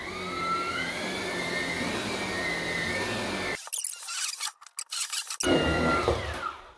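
A Dreame T30 cordless stick vacuum runs on carpet with a loud, steady motor whine and airflow roar, then cuts abruptly to a few seconds of scraping, clattering handling noise before the motor drone returns.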